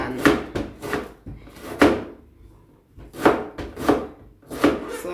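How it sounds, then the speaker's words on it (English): Onion being chopped with a knife on a board while making Jamaican stew beef: repeated sharp, close knife strikes in short bursts of several quick cuts, with a brief pause midway. "So I basically chop the onion."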